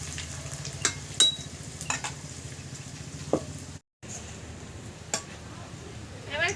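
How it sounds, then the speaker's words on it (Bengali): Chopped onions frying in a pan, cooked until reddish-brown: a steady low sizzle with occasional stirring scrapes and clinks of a utensil, cut briefly by a short gap. "পেঁয়াজটা আমি লাল লাল করে ভেজে নেব"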